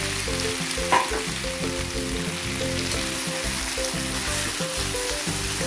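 Marinated beef sizzles steadily in a hot pan, a continuous close crackle with faint stirring and a low rhythmic hum underneath, no voices.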